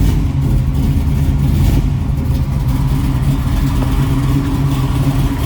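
A 1968 Chevrolet Camaro SS tribute with a 496 engine idles loudly while warming up after a cold start, a deep, steady, lumpy rumble close by with slight rises in revs.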